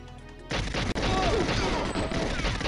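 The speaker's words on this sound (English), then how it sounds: "Oh, this guy just threw a grenade at me." A grenade blast and gunfire erupt in GoldenEye on the N64, opening with a quieter lead-in before a loud crash and a sustained, harsh volley of shots.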